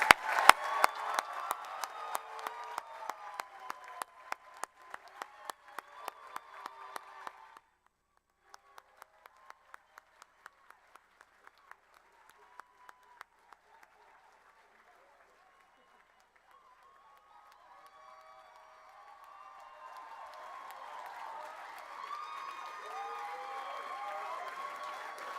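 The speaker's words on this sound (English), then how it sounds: "let's please have one final round of applause for all of those graduating" Graduates at a university graduation ceremony receive a closing round of audience applause, loud clapping at first that thins out and dies away, followed by a soft swell of crowd murmur and voices.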